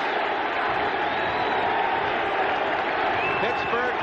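A crowd of more than 80,000 fans at a 1984 NFL game between Pittsburgh and the Los Angeles Raiders roars steadily for the defense, a dense, sustained stadium din with a broadcaster's voice faintly underneath.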